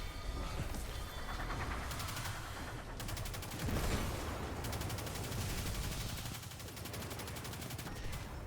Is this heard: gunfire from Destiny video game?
yes